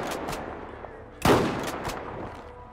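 A single sharp gunshot in GTA V in zombie realism mode at a destroyed farm, cracking out over a low ambient bed with a few faint distant pops around it.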